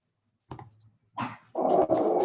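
A dog at home gives a couple of short growling, barking bursts followed by a longer loud stretch of rough vocalizing, close to the microphone with no talking.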